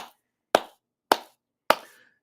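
Panel applause reduced to four separate hand claps, evenly spaced about half a second apart, sharp and close with quick decay against silence, no voices.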